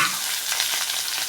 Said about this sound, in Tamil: எண்ணெயில் வறுத்து எடுத்துருங்க.